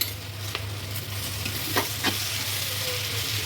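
Fried rice ingredients sizzle steadily in a pan while being stirred, with a few soft scraping strokes of the spoon over a continuous frying hiss.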